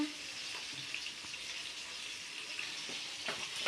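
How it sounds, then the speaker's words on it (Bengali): Fish frying in a pan in a home kitchen, a soft continuous sizzle with faint crackles and occasional clinks, heard quietly and alone. "মাছ ভাজি"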